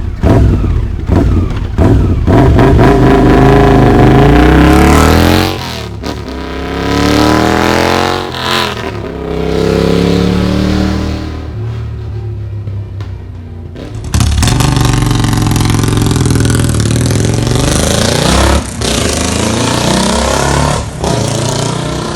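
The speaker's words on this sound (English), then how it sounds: "The exhaust sound on each one of these motorcycles is obviously different." Royal Enfield Interceptor 650 and Continental GT 535 cafe racers fitted with P-Shooter exhausts rev loudly and close, engine pitch rising and falling through sustained throttle blips, then a fresh, steady roar after a brief dip.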